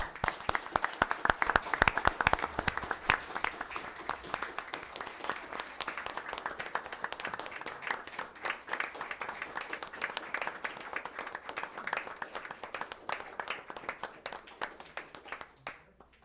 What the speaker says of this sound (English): I really appreciate your applause too